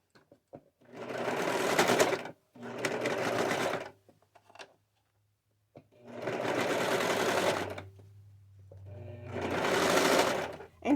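A serger overlocks the edges of shirt fabric in four loud, steady bursts of stitching, separated by short pauses with a low motor hum between runs, close up and with no talking.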